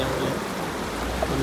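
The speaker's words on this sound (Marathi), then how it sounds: "पाऊस" Monsoon rain falls steadily in Chikhale near Panvel, a dense, even hiss with no breaks, loud and close.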